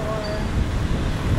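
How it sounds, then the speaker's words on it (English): Steady wind buffets the microphone on a breezy riverside walk in Makati, Manila, a continuous low rumble that stays loud and close throughout. "Oh, it's a bit windy."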